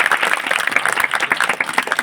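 Audience applause at a gathering at a wrestling gymnasium in Borgaon Khurd, Khandwa: a dense, steady patter of many hands clapping together for two seconds, with no speech over it.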